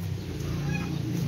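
A brief, faint clucking from gamecocks, fighting roosters kept for cockfighting, sounds in a short burst against a low background hum.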